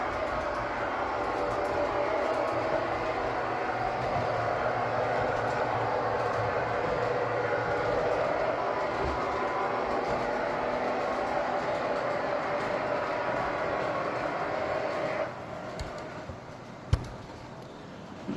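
A train engine rolls steadily along the line near a siding, a continuous close rumble and roar with faint clatter that eases slightly near the end, a sharp click standing out just before it ends.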